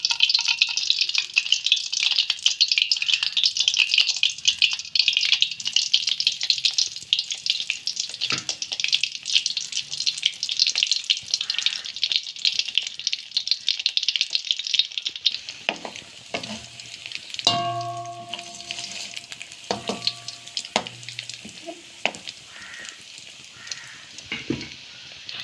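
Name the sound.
egg rolls deep frying in hot oil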